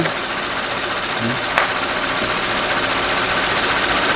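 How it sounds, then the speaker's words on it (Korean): A Hyundai Equus 3.8 engine idles steadily after overheating repairs, a loud continuous mechanical hum with a light rapid ticking texture and no other sounds over it. "시동 걸어"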